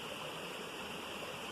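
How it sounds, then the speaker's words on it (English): A river flowing through forest on the west coast of Norway, a constant broad rushing wash of water, close and even, with no other sounds. "will film the river first, so you get to see that"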